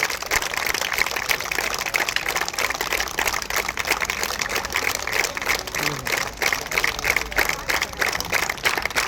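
An audience at a felicitation program for comrade runners claps continuously throughout, a dense, steady applause with some crowd murmur mixed in.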